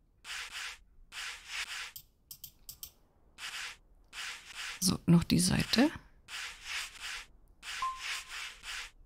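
Wood sanded in the video game Workshop Simulator, a run of rhythmic rasping strokes in regular bursts, with someone speaking briefly between them.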